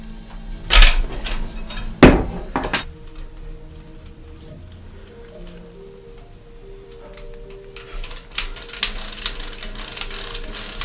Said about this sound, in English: To get enough leverage, I'm putting another wrench